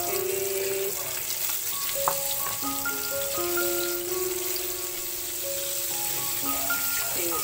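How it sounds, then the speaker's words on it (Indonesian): Chicken chop fries in hot oil over moderate heat, giving a steady close sizzle and crackle with scattered popping and no talk. "Okay, lepas tu kita proses menggoreng."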